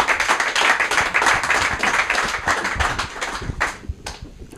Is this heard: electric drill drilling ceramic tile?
no